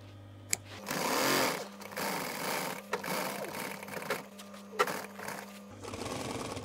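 An industrial sewing machine stitches a pocket onto a VW T5 Transporter seat cover, running in a steady motor drone that starts and stops in bursts with a sharp click or two between runs.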